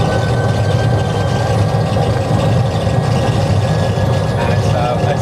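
Airliner engines in a flight simulator spool up toward takeoff thrust, a loud, steady low drone with a thin high whine running through it, continuous throughout, with a voice talking over it.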